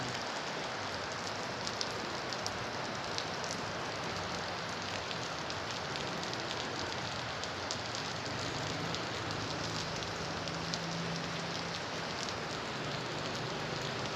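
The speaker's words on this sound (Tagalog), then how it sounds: "bigla namang lumakas ang ulan" Dense, steady heavy rainfall pours down continuously on a street in Fugoso, Santa Cruz, Manila, a constant hiss of drops hitting surfaces with no voices.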